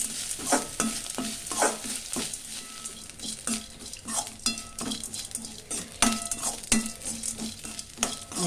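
Grated coconut roasting in a pan for coconut rice made with varagu millet, heard as a continuous sizzle broken by frequent scraping and clanking of a spoon on the metal pan, close and unvoiced.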